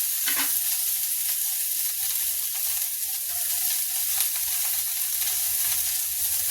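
Shredded cabbage frying lightly in a pan, a steady close sizzle with faint crackles that holds at an even level for the whole stretch, with no voices over it.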